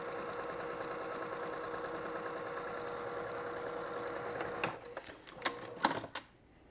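A sewing machine stitches quilt pieces in a steady, continuous whir for several seconds, then stops with a few short bursts and clicks as the fabric is adjusted, close and fairly loud with no talking.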